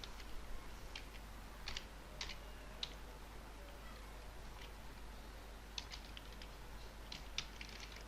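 A computer keyboard is typed on with a few short clusters of quiet keystrokes and single taps, separated by gaps, faint against a low steady hum.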